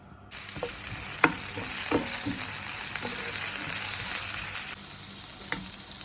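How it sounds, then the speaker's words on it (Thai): Shallots and onions hit hot olive oil in a pan for an Arabic-style yogurt chicken curry, bursting into a loud, continuous sizzle. A few utensil clicks and stirring knocks punctuate the close frying hiss. "ใส่น้ำมันมะกอกใส่หอม หอมแดงหอมใหญ่ก็ใส่ลงไปเลยจ้ะ"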